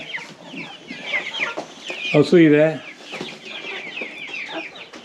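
Chickens cluck and chirp all around at close range, with one louder, drawn-out squawk in the middle. A person speaks briefly over them.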